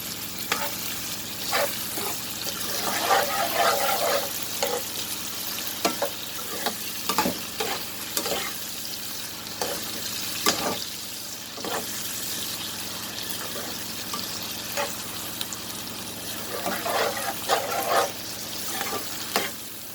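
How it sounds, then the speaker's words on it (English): Onions frying and being stirred in a pan while making kurma curry, a steady close sizzle with repeated scraping stirs throughout. "I'm gonna add my onions."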